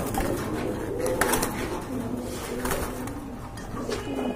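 Pigeons coo steadily and close by at a pigeon sale, with soft rolling calls repeating over a busy background murmur.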